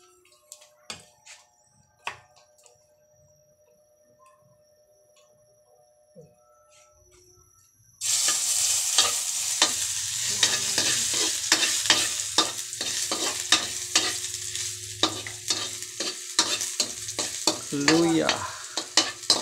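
Ginger for chicken curry begins sautéing in a pan: a quiet stretch with faint ticks and distant chirps gives way to a sudden loud sizzle, then continuous crackling with clattering stirring.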